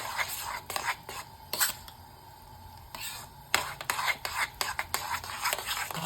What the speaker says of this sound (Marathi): पुरण सतत ढवळत राहायचं